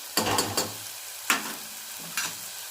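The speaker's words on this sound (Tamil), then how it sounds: "தக்காளி வதங்கிடுச்சு இப்போ எல்லா மசாலா பொடியும் போட்டலாம்" Masala powders (coriander, garam masala, chilli) frying and being stirred into sautéed tomatoes for a radish-carrot gravy, a few distinct scraping stir strokes over a soft, steady sizzle, close and alone.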